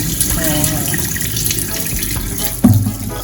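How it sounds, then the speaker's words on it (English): Meat being washed under a running kitchen tap, a steady broadband water rush throughout with a louder splash near the end, as when the flow hits the meat or sink. "Wash on my meat."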